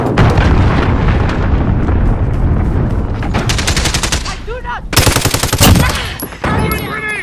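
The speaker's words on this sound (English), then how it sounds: "Allied cruise missile away." Cruise missile strike in a shooter video game, with dense, loud, continuous gunfire and rolling explosions. Rapid automatic bursts and heavy booms overlap throughout, and a few sharp impacts stand out near the end.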